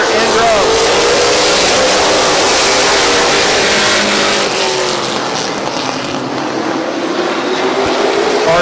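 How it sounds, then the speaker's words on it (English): Race cars at Midvale Speedway during a fall classic race roar past, a loud sustained engine drone with rising and falling pitch as they circle the track, under a commentator's voice. "Getting ready to go back to green flag racing."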